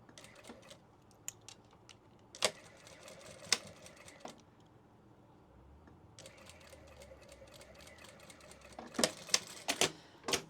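A sewing machine at work on a small tissue pouch with a swivel clip gives sparse, sharp mechanical clicks and taps, with a stretch of denser stitching chatter in the middle, all fairly quiet and close.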